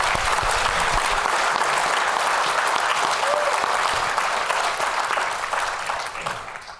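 A conference audience applauds Dr. Myers at a prostate cancer patients and caregivers gathering, a dense steady wash of clapping that holds for several seconds, then thins and fades toward the end.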